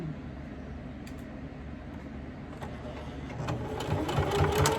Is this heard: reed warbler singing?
no